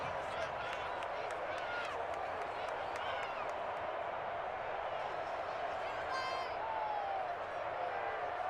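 A stadium crowd in Madden NFL 21 roars steadily before a big third down, a dense, sustained wash of cheering with a few whistles rising above it.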